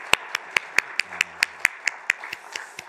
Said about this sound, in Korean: 박수 드리겠습니다.